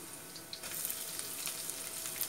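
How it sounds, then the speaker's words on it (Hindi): Shredded chicken hits a hot pan of lightly sautéed aromatics for Chinese chicken rice, giving a steady, close, hissing sizzle that brightens slightly after the first half second, with no talk. "देखिए ये थोड़ा सा सौते हो गया है, अब मैं इसमें चिकन डालूँगी"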